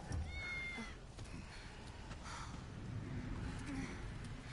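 A cat meows in the video game Final Fantasy VII Remake, held by a character inside Shinra HQ; a couple of short meows rise over a soft, steady game ambience.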